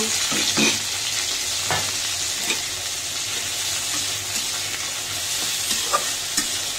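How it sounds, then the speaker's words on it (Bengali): Dried mola fish frying in a pan beside pushed-aside onions: a continuous close hiss of sizzling oil with occasional spatula scrapes and small pops, and no voices. "এগুলো সাইড করে নিয়ে আমি এই শুটকিগুলো ভেজে নিব"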